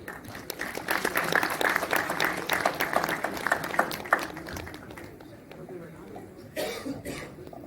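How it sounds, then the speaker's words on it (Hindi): An audience at a health mission society convention applauds, a dense, steady patter of many hands clapping that tapers off, with scattered voices and coughs underneath. "तालियों में कंजूसी नहीं।"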